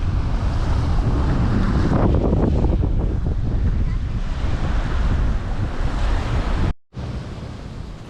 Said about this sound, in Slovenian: So kar valovi, spet od zunaj.